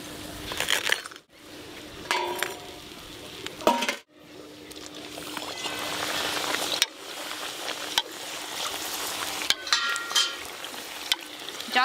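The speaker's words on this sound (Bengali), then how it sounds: "এইভাবে গরম তেলটা দিলে প্রত্যেকটা ভেতরের পার্টগুলো ভালো করে ভাজা হবে।" Dhakai paratha fries in hot oil in a home kitchen, a soft steady sizzle broken by sharp clinks and scrapes of a metal utensil against the pan.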